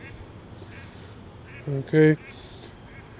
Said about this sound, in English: We're looking at, there's some geese there.